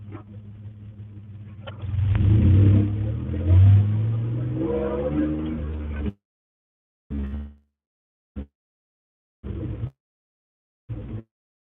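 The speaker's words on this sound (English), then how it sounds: "My truck's pretty loud, by the way." Loud pickup truck engine revving, a deep rumbling roar building for several seconds, then cutting into short bursts separated by silence.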